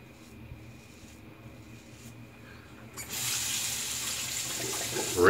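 A shaving razor, the Blackbird, is held under a running tap: a quiet background gives way to a sudden, steady rush of water that grows louder near the end.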